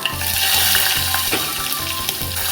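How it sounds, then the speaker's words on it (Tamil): Whole small onions dropped into hot oil tempered with fennel and fenugreek for a bitter gourd gravy, giving a loud, continuous close-up sizzle with faint spattering throughout. "இப்போ வந்து சின்ன வெங்காயம் போட்டுக்கலாம்."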